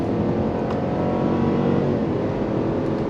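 A 2025 GMC Yukon AT4 Ultimate full-size SUV with a 10-speed automatic accelerates hard, its engine a loud, steady, unbroken roar heard close from inside the cabin, with no talking.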